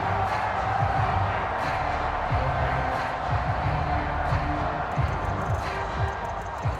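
Crowd noise from a football video game, Bears at Colts, fills the background as a steady, moderately loud roar with scattered cheers and whoops, heard from a distance.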